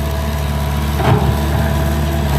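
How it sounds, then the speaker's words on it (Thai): A turbocharged dump truck fitted with a 4PD1 engine runs nearby with a steady, droning low rumble that swells briefly louder midway before settling back. "ใส่เครื่องยนต์ยี่สิบส่วนนะครับสี่ พีดีหนึ่งนะครับ ต่อตัวนี้มีเทอร์โบนะครับ"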